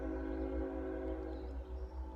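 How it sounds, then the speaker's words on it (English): A low, sustained train horn drones in the distance over a rumbling background, steady and muffled rather than sharp. "Can you hear the train horn?"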